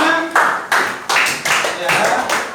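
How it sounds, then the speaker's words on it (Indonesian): A class claps hands in several quick bursts with short pauses between, fairly close and loud, some voices audible among the claps. "ayo, tepuk tangan semuanya."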